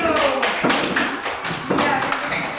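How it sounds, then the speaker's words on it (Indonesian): Classmates clap for a student group in a school lesson, with a dense run of quick, uneven claps and taps close by, and voices mixed in. "Tepuk tangan untuk kelompok 3 dulu."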